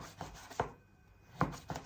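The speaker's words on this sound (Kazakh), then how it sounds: "Осылай жұқа етіп турап алып, сыртындағы, яғни қабықтарын, қатты жерлерін алып тастаймыз." A knife slices thin pieces from a loaf of bread (a baton) on a cutting surface, giving four soft, crisp cutting strokes in two pairs with a quiet gap between them.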